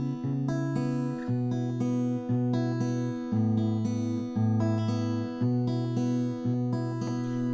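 Strummed chords of a song on a guitar, each strum landing about every second in an even rhythm, ringing sustained tones, close and clear, with no talking.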